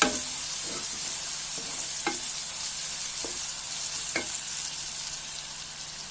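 Onions fry with a little salt in a pan, giving a steady close sizzle with a few soft stirring clicks and taps and no voices.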